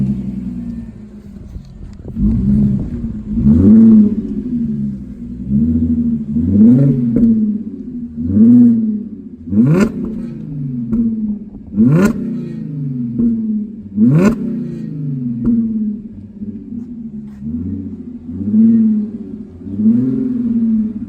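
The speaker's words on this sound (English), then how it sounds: "So I'll start it up and kind of rev it for you guys" An Audi A7 running with its muffler deleted, idling with a deep, steady rumble and blipped through several sharp, loud revs that rise and fall in quick succession, close to the exhaust, with no talking.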